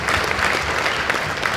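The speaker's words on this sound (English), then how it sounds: "let's give him a big round of applause" A conference audience applauds a volunteer, a steady, even wash of many hands clapping that carries loudly through the hall, with almost no talk over it.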